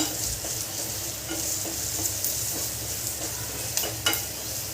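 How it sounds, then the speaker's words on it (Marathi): A chaat masala mixture is sautéed in a pan, with close, steady sizzling broken by repeated scraping and clacking of a spoon stirring it around. "याच्यात एक चमच मी चाट मसाला टाकते आहे यांना छान परतून घ्यायचं"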